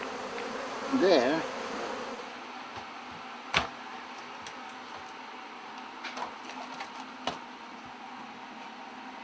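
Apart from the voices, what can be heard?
honeybees buzzing at the hive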